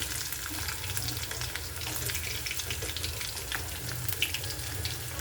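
Curry leaves, ginger and garlic fry in a pan for a Tamil tomato-peanut chutney, giving a steady, close, crackling sizzle that runs unbroken throughout with no voices.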